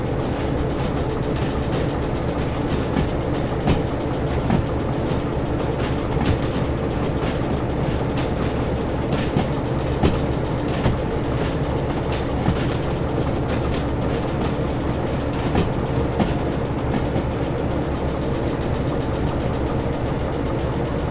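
A train pulling three carriages in the railway simulation game Derail Valley rumbles along continuously, with a steady low drone and a regular clickety-clack of wheels over rail joints.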